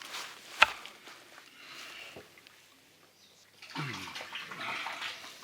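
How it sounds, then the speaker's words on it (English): Spring water pours and splashes into a barrel outdoors. A sharp knock comes first, then a quieter spell, and the splashing grows steadier and louder toward the end. "water's getting into the barrel"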